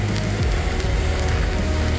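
Heavy rain pours steadily on a steep, rocky mountain trail on the Shrikhand Mahadev trek, a dense, even hiss filling the whole moment with no voices.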